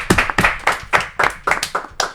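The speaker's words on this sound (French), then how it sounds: "je propose qu'on l'applaudisse" A small audience applauds a speaker on a French debate show, a sparse, uneven series of about eight distinct close hand claps, sharp and loud, with gaps between them.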